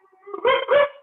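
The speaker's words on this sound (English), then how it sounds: "Oh, he's barking." A dog gives a short double bark, two quick close yips right after one another, alone with no talk.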